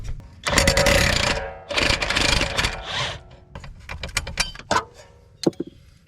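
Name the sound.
impact wrench on a 19 mm bolt of a rear hub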